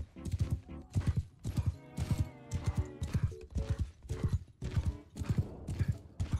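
Horse hooves clip-clopping in Mount & Blade II, a steady repeated trotting rhythm of close, loud hoofbeats with a whinny-like tone mixed in and no talk.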